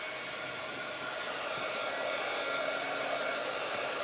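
A hair dryer runs steadily and close up, drying a freshly painted board before sanding, a constant loud airy whir with no talking.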